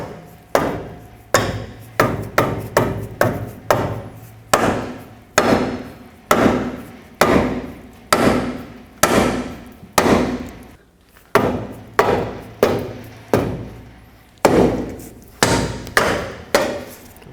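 A pry bar levers a lower control arm bushing into the subframe of a 2005-2010 Pontiac G6, giving a steady series of loud, sharp metallic knocks and clunks in rhythmic runs with brief pauses, no talking.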